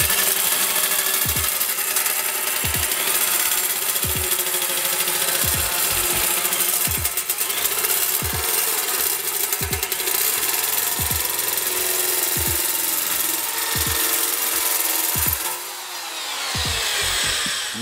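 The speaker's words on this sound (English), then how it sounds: "It just nibbles out the metal little by little as we drive through it." Drill-driven CaNibble nibbler cutting 18 gauge sheet metal, a loud continuous whirring grind with a regular rapid punching rhythm and periodic heavier thumps, running steadily before easing off at the end.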